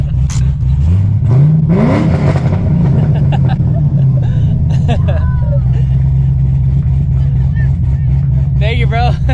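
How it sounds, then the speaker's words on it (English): A Corvette Z06 with a choppy cam revs loudly nearby, one rising sweep followed by a rough steady idle, while people talk and cheer over it. "Bro, they want me to rev it."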